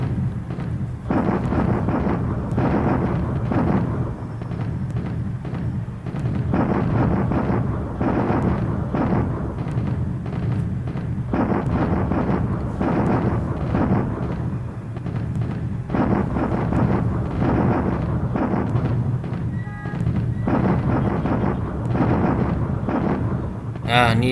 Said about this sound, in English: Bombardment, always a little too much.